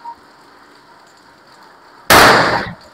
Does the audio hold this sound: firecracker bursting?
yes